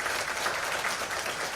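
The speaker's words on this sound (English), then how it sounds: "please give a big round of applause for the speakers" Audience applause for the speakers of a panel session on a world in turbulent transition, a steady dense wash of clapping throughout, moderately distant and even, with no talk over it.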